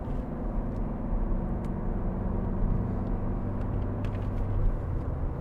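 A 2012 Ford Fiesta 1.4 TDCi diesel engine drones steadily while driving, a continuous low rumble mixed with road noise and no speech.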